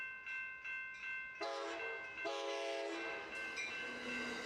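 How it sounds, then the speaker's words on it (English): A Surfliner passenger train passing, with a loud sustained multi-tone horn blasting in several long bursts, close by and with no talk. "Think about the calming effect of the Surfliner."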